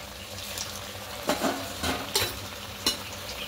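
Potato-stuffed patties sizzle in lightly heated oil in a wok, with a few sharp crackles and spatters over a soft, steady frying hiss, no voices.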